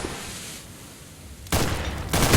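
AUG rifle gunfire in a competitive shooter match, a quiet stretch of low ambience that suddenly gives way to a loud burst of shots, then a second burst near the end.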